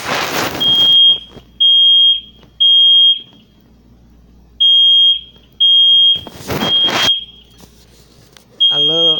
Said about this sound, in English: so the alarm is still going off.